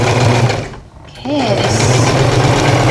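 A sewing machine stitches black and white printed fabric with ribbon. Its loud, close motor buzz runs steadily, dips briefly while a voice speaks a word, then resumes its continuous whir.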